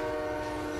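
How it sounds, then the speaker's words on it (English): Train arriving in the video game GTA IV during a subway train heist, a steady loud rumble with a sustained horn-like tone held through the short moment, no voices over it. "Here comes the train."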